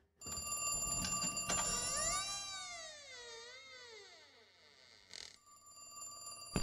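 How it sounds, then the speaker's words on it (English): A telephone rings in The Cat Lady video game, a loud electronic trill with a warbling, bending tone that fades out, followed by a brief clatter near the end. "phone's ringing"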